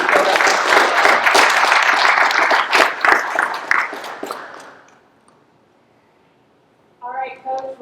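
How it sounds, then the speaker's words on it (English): Audience applause for a newly named women's head coach at an introduction event, a loud dense burst of clapping that fades out by about five seconds, followed by brief silence before a voice begins. "let's just give her one more big round of applause."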